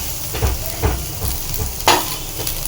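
Chow mein noodles stirred in a hot pan with cucumber, a steady sizzle and a few scraping strokes of a utensil, close up, no talking.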